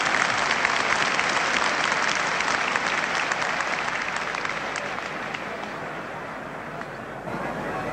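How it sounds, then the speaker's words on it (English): Sustained applause from a stadium crowd at a 1973 rugby Test match between Ireland and New Zealand, a dense, even roar of clapping that eases slightly toward the end. "It's great to hear appreciation of a crowd"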